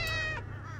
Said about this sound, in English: Hi, kitties. There's a lot of you.